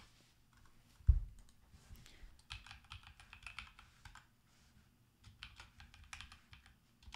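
Login credentials tapped out on a computer keyboard: a sharp thump, then bursts of quick, close key clicks in two runs separated by a short pause, with no talking.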